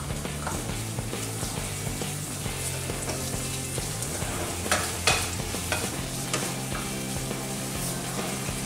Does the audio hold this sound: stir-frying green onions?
yes